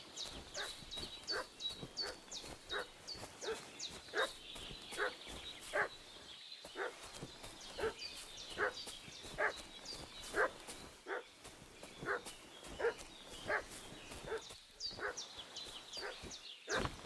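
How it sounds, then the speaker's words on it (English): A dog in Kingdom Come Deliverance 2 barks and yelps over and over in a steady, insistent rhythm, moderately close and fairly quiet, with brief pauses between runs. "What's that dog making such a fuss about?"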